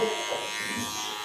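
Electric hair clippers hum steadily and close up while tapering the sides of thick hair on a grown-out buzz cut, a continuous buzzing drone with no talk.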